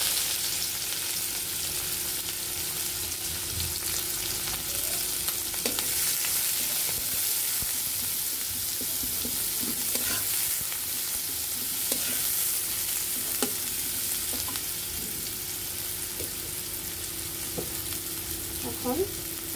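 Chopped onions fry in hot oil for shorred ilish (hilsa in mustard), a steady broadband sizzle running throughout with scattered stirring scrapes and small clinks, fairly close and moderately loud, no voices.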